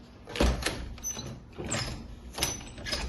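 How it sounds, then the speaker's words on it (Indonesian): A door closes and its solenoid lock engages in an RFID-controlled door lock setup, giving a few soft thumps and clicks spread across the stretch at moderate level, with no voices. "apabila mahasiswa tersebut menutup pintu, maka pintu ini akan terkunci seperti semula, seperti ini."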